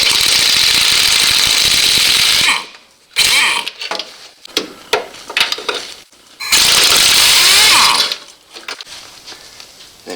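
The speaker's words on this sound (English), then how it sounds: "Got enough room that my impact wrench goes right up inside the fender." An impact wrench removes bumper bolts on a GMC/Chevy Sierra/Silverado 2500 truck, with two long loud buzzing bursts of hammering separated by clanks and rattles of metal parts up close.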